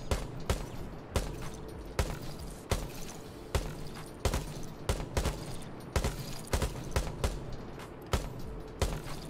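Repeated single gunshots in the tactical shooter Rainbow Six Siege, sharp loud cracks fired at a steady rhythm of roughly one every half second to a second over a low background din.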